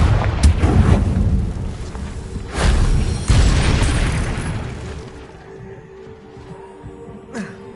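A Confringo blasting curse in Hogwarts Legacy goes off as a series of loud, heavy booms, several deep blasts in close succession before the rumble fades into a quieter tail and one last thump.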